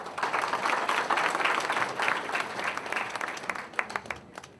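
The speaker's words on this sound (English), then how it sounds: "Please give a round of applause." An audience applauds guests welcomed onto a stage, with dense, loud clapping that carries steadily for several seconds and then thins into scattered claps near the end.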